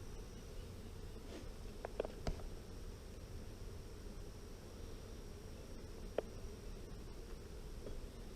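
Honey bees at an observation hive during a spring honey harvest make a steady, soft buzzing drone that runs unbroken throughout, with a couple of brief clicks near the middle.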